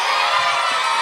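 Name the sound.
live show audience cheering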